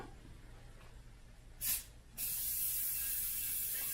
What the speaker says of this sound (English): First, you're going to spray some dinner plates.